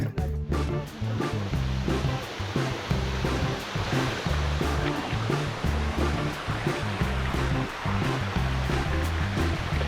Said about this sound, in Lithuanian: šitos kaskadomis bėgantis vanduo, man gražesnis negu tas krioklys per sieną